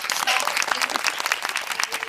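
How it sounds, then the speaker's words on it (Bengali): A child claps rapidly at close range during a home English lesson, a quick burst of continuous claps lasting about two seconds. "হাততালি দাও"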